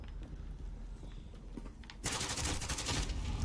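Video game gunfire starts after a quiet stretch of faint footsteps and clicks, then erupts into a loud, dense burst of rapid shots that continues to the end.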